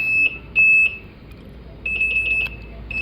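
An M45OTO Android motorcycle security alarm keeps beeping after being switched off, giving loud, close, high-pitched electronic tones in short bursts followed by a longer warbling stretch.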